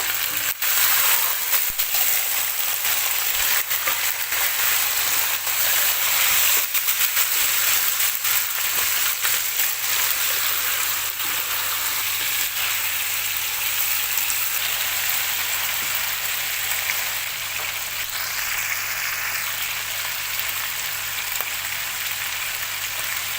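Chicken roasting in oil in a pan for Saudi kabsa, giving a steady, even sizzle and crackle that runs unbroken throughout with no talk.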